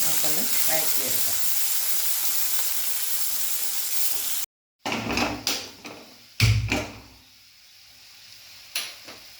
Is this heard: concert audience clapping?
no